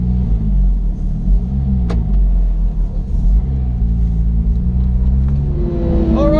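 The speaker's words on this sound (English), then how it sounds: "this Sharkwerks exhaust can scream and shout all at once" Porsche 991 GT3 fitted with a Sharkwerks exhaust on a race circuit: a loud, close engine drone with steady rumble and shifting pitch throughout, rising toward a rev at the end, with no talking.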